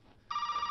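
A telephone in the video game Resident Evil 7 starts ringing abruptly, a steady shrill electronic bell that continues to the end.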